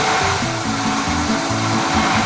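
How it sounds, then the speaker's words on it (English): Water park pump driving a spinning wheel makes a loud, steady whirring drone up close, an even mechanical hum that holds without a break, with music underneath. "Ooh, listen to the sound of the pump."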